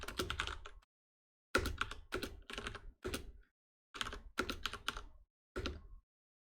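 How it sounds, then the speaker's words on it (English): Bursts of quick keystrokes on a computer keyboard, close and clear, in several short runs of clicks with brief silent gaps between them. "and I'll type in some random values"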